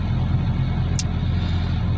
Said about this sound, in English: This sound is more heard on the inside more than the outside, and low RPMs is heard mostly.